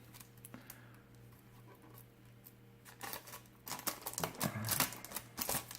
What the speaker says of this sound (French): il est encore sous blister, vous pouvez voir ici, tout neuf. Donc on va l'ouvrir.